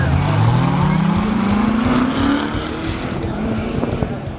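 A 2014 Chevrolet Corvette C7 Stingray at the Laguna Seca track, its engine note rising steadily through a gear as the car passes close and loud, with a rough rumbling texture and faint talk mixed underneath.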